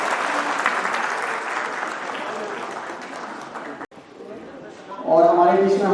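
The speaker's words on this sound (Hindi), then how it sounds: "जोरदार तालियों से आप लोग सम्मान कर दीजिएगा।" An audience at a music teachers' award ceremony claps steadily for an honoree, the applause thinning and dropping briefly before a speaker's voice rises over it at the end.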